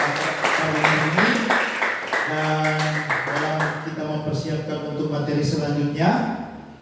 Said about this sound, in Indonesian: ya kita tepuk tangan untuk materi hari ini